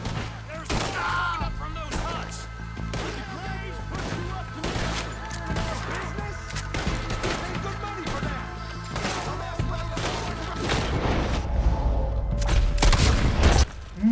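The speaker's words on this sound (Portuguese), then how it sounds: "Nossa, velho, que explosão" Explosions and gunfire in the video game Red Dead Redemption 2: dense, continuous volleys of shots and booming blasts, with a heavy low rumble building near the end, while someone talks over the action.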